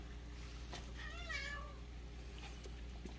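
A house cat gives a single clear meow with a rising-falling pitch, moderately close, over a constant low hum of indoor background noise, with no talking.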